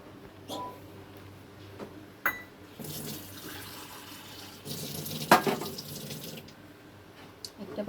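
Water in a bowl, used to test lentil paste by dropping a little into it, gives soft splashing and pouring sounds with a few sharp clinks, building in two louder bursts midway, close up and with no talk.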